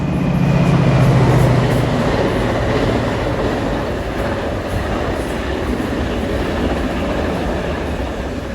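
A train passes beside the river at Marykirk, its loud, steady rumble and rolling clatter filling the whole stretch, close by and with no talk over it.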